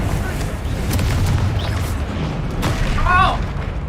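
Confringo blasting spell from Hogwarts Legacy bursting in a deep booming explosion, followed by crackling debris and a short sharp pop, with sparkling magical tones near the end.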